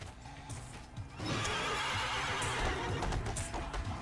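A horse whinnies loudly in a Devil May Cry 3 video game cutscene, with hoof clatter and surrounding action noise building into a sustained roar partway through.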